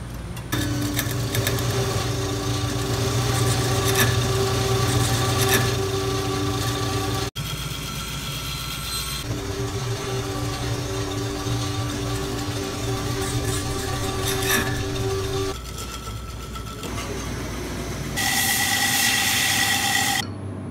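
A wood lathe spins a segmented wooden bowl as the top half is turned, a steady close motor whine with tonal hum that shifts pitch slightly and briefly drops out partway.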